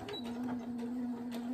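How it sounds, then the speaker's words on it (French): A sewing machine runs forward then reverse stitches on fabric while making a cake bag, giving a steady close motor hum with light rhythmic needle ticks and nobody talking over it. "je vais faire mon point avant, point arrière"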